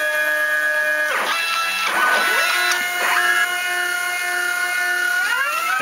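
A plotter marks out ornithopter wing shapes on a carbon sheet, a steady motor whine with rising and falling tones as the head moves, close and continuous, with no talking.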